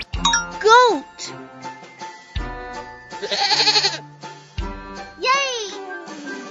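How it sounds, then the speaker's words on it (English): A goat bleats in a children's cartoon: a few wavering, rising-and-falling cries set among tinkling jingles and a voice. "Goat."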